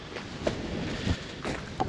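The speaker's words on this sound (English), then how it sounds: "It's a windy one." Wind blowing outdoors on the Norfolk Broads in October, a steady rushing bluster with a few stronger gusts buffeting the microphone, no talk.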